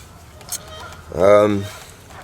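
A goose gives a single loud, nasal honk nearby on a kayak camping island, preceded by a faint brief call, with low background murmur.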